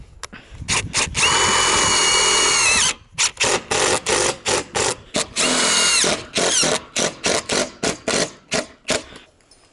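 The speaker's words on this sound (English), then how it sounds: "We've been putting our roofing screws in the flat striations," A power drill drives roofing screws into a metal roof in two long whirring runs, then a string of short, sharp bursts, close and loud with no talking.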